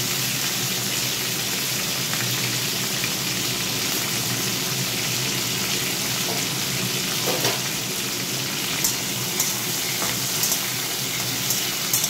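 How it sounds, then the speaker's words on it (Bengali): Pieces of pointed gourd (potol) fry in hot oil in a pan, a loud, steady close sizzle running throughout, with occasional faint clicks of stirring. "তো পটলগুলো ভেজে নেব।"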